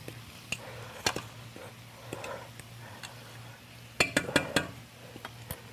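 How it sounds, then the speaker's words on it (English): Spoon stirring cilantro into spicy egg masala in a pan, producing scattered metallic clinks and taps that bunch into a quick run of scrapes toward the end, close and moderately loud. "Give it a nice stir."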